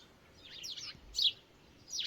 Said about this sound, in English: the birds just love perching in it and hiding in it